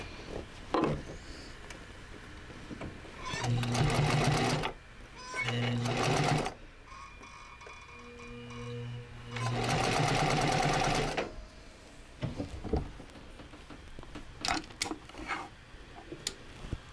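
A sewing machine stitches fabric in several loud bursts of rapid mechanical clatter, separated by quieter pauses with faint ticking and handling sounds.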